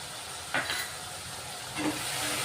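Onion-garlic masala paste frying in oil for a village-style fish curry, a soft continuous sizzle and hiss with two brief louder scrapes of stirring, close and low in level.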